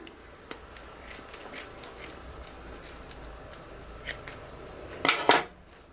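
Scissors snip through folded ribbon at a diagonal while a gold garland wreath is trimmed, giving one short, crisp close-up cut near the end after a few faint clicks and light handling sounds.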